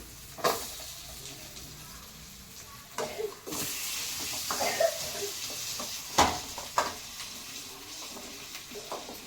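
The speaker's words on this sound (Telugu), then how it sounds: "జింజర్ గార్లిక్ వేసుకున్నాం కాబట్టి పొటాటో ఇంకా బ్రింజాల్ వేసుకుందాం మనం." Potato and brinjal fry with ginger and garlic in a pan, a low continuous sizzle with occasional louder stirring scrapes and clatters, close and without talking.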